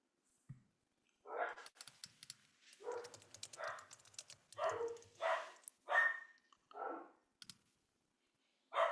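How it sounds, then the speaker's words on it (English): An excited dog barks indoors in a home, about eight sharp, loud barks in uneven bursts, with light clicking from keyboard typing underneath. "Can you hear my dog going crazy here?"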